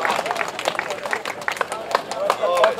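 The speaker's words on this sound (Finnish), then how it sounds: "Annetaan sitäkin raikuvammat aplodit" Crowd applause for the veterans' class winner at a Finnish forestry-machine loader championship in Jämsä, a moderate, scattered clapping from a gathered audience outdoors, steady throughout, with a voice speaking over it near the end.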